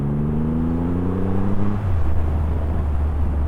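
Triumph Rocket 3R 2023 motorcycle engine pulling hard up through the gears, a rising drone that drops in pitch at a gear change and then climbs again, loud and close with road rumble underneath.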